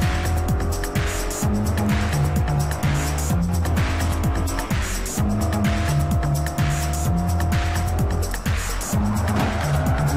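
A race car accelerating hard in a Forza Horizon race, with a loud engine climbing repeatedly through the gears and tires squealing. The engine note rises and drops in a steady shifting rhythm and stays close the whole time.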